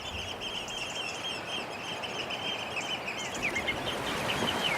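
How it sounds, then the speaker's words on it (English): Wader birds calling on Hilbre beach, a steady scatter of high chirps and piping calls over soft outdoor ambience, fairly faint and continuous with no voices. "soon there are waders feeding all along the beach"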